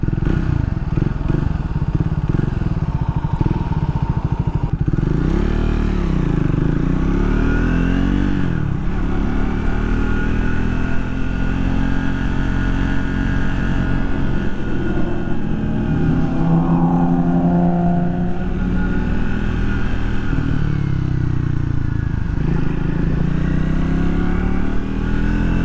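A Triumph Speed 400 motorcycle under way, its engine droning steadily and loud throughout with repeated rises and falls in pitch as it accelerates and shifts gears, wind noise running underneath.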